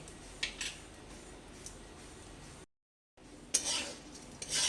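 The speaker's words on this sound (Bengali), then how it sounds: "এখন একটু নাড়াচাড়া করে কাজু বাদামগুলো দিয়ে দিচ্ছি" A spoon stirs cashew nuts in a pan for a sweet pulao, giving soft scraping and light clinks over a low background hiss, with a brief gap of silence before a few louder scrapes.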